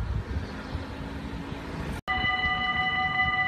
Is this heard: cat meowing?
no